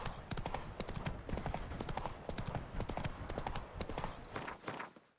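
Horse galloping in The Witcher 3 video game, a fast, rhythmic clip-clop of hooves that runs steadily and fairly close before tapering off at the end, with a faint whinny-like tone and no talk over it.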